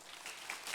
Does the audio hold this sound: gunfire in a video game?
no